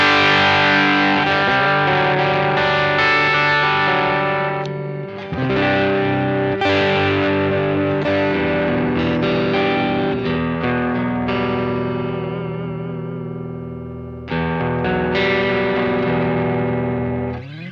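Electric guitar chords played on the bridge humbucker through a fuzz pedal, loud and saturated with sustained distorted strums, a brief dip near the middle, no talking.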